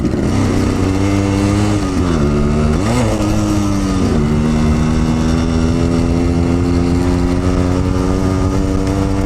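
A Yamaha RX100 motorcycle engine runs steadily while being ridden, a close, loud two-stroke drone with clear harmonic tone, briefly rising and dipping in pitch with throttle changes before settling into a constant cruise.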